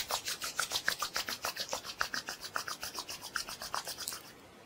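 Both hands rubbed briskly together during a guided exercise, a fast steady train of dry rasping strokes, about four per second, close and fairly quiet before stopping abruptly.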